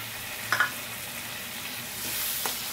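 Ground red chili and cumin paste with garlic sautés in hot oil for a spicy shivada fish curry, a soft continuous sizzle broken by a couple of quick stirring scrapes.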